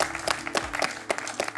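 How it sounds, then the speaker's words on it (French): Sparse applause on a French quiz show after a head-to-head final, a few distinct claps with a short burst of clapping, close and fairly light rather than a full crowd. "Et Marouane vous applaudit, ce qui est très sport."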